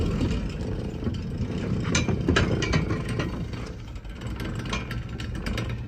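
Sliding-gate opener motor driving a chain to move the gate, a continuous grinding mechanical whir with rattling, ratchet-like clicks, close and steady throughout, without speech.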